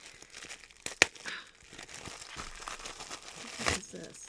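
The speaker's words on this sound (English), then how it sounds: "Oh, we'll just tear it apart." Packaging torn apart by hand, with a sharp rip near the start and crinkling rustles that follow, then a second louder tearing burst toward the end, close to the microphone.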